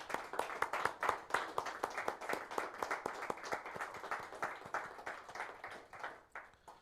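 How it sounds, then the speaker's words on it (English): Audience at a cyber-security talk claps after a speaker, a faint, fairly sparse group applause with distinct individual claps in an uneven rhythm, tapering off toward the end. "let's give her another applause"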